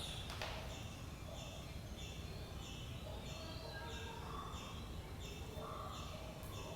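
Morning birds chirp and sing in repeated short phrases over a steady, soft background hum during a guided meditation; the calls sound moderately distant and fairly quiet.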